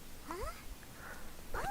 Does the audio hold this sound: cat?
yes